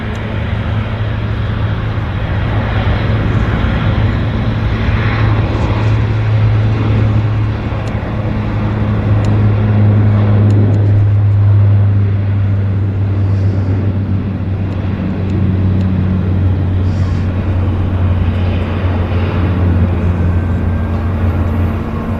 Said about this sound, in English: Got a Q400 on the roll.